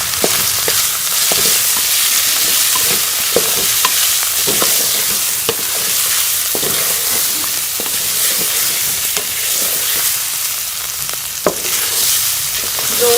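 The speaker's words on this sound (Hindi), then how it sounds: "दो से 3 मिनट हो चुके हैं बीफ को जो है वो भूनते हुए।" Beef sizzles steadily as it fries in a karahi, a loud continuous hiss broken by frequent scraping stirs of a utensil, with no voices.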